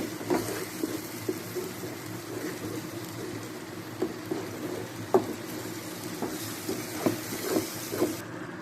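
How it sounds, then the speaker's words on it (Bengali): Masala paste of spices and chilli powder being fried in oil for Kolkata restaurant-style chicken tikiya, a low steady sizzle with soft intermittent stirring scrapes and a few sharper clicks near the end. "ভালো করে মিশিয়ে মশলাটা কষিয়ে নিচ্ছি"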